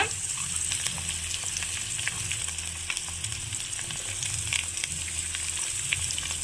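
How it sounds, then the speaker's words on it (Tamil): Eggs sizzle in a hot pan with ginger garlic paste and sautéed onion for egg pepper rice, a steady close frying crackle that runs unbroken throughout with no voices. "இப்போ இது கூடவே நான் 2 முட்டை உடச்சி ஊற்றிக்கிறேன்."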